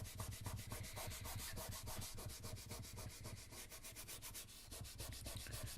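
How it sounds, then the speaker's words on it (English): Charcoal drawing being rubbed and smudged by fingers across paper to soften the background, a steady close scratchy rubbing in quick repeated strokes throughout. "I'm just going to rub it in to soften the whole background."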